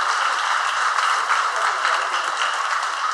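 Audience applause at a Holy Innocents feast at St Marks church in Adambakkam, a steady, dense wash of clapping that holds evenly for the whole stretch with no voices over it.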